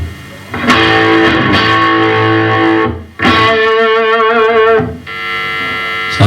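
Distorted chords from a Vintage V6MRTBG electric guitar ring out in long sustained bursts, thick with overdrive, separated by brief gaps, loud and close.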